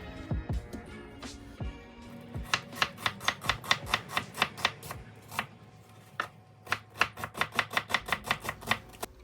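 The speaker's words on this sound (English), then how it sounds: "So 1 onion, 1 bunch of cilantro, finely chopped." Onion and cilantro being finely chopped with a knife on a cutting board for ribeye tacos, heard as close, steady bursts of rapid crisp chops with short pauses between runs.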